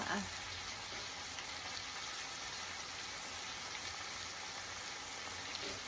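Squid sautés in a hot pan with a constant, close, even sizzle, with no talking over it.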